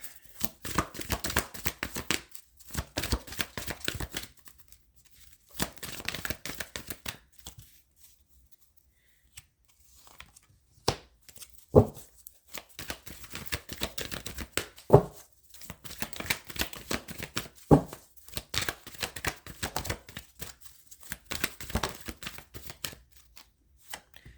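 A deck of cards is shuffled over and over, crisp riffling bursts separated by short pauses, close and fairly loud.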